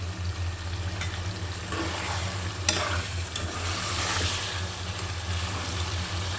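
Fish heads sizzle steadily in a pan of spiced tomato masala for a Bengali moong dal muri ghonto, with occasional stirring scrapes over a constant frying hiss and no talking.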